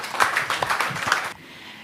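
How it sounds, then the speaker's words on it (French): Applause from an audience at the close of a business talk on pan-African entrepreneurship: a short burst of scattered clapping that thins out after about a second, then quiet room tone. "Je pense qu'on va applaudir."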